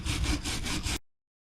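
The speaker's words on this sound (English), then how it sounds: "We just want the foam off the board and leave everything else." Foam is scraped off a car headliner board in short rapid rasping strokes, about five rhythmic scrubs in one second, close and dry, then abrupt silence.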